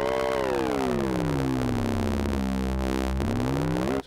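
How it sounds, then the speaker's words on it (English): A steady miniKORG 700FS synthesizer tone, ring-modulated on oscillator 2 with strong metallic sidebands, sweeps slowly down in pitch, then jumps back up near the end, buzzing and clangorous. "we have these great ring modulation effects as well in oscillator 2"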